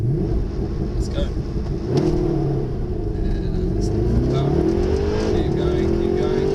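A Mercedes SLS AMG launches at full power with paddle shifts, its engine roaring loudly and rising in pitch through successive gears from inside the car, with a voice heard under the noise.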